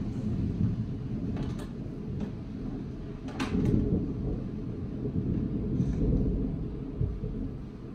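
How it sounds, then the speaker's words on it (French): Low, rolling thunder rumbles faintly and continuously in the distance, with a few soft swells and no voices. "le tonnerre est là."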